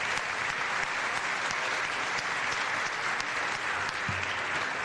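Sustained audience applause fills the room at an opening event for Resorts World Catskills, a dense, steady wash of clapping hands with no gaps, close and loud throughout.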